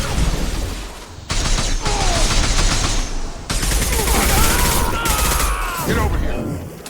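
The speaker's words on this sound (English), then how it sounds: "shotgun!" Shotgun blasts and other gunfire in a Mass Effect 2 firefight ring out loudly, in heavy overlapping bursts with sharp cut-ins and a sustained combat din.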